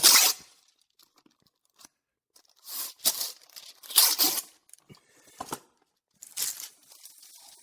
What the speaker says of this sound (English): I'm going to get a couple more pieces of wax paper.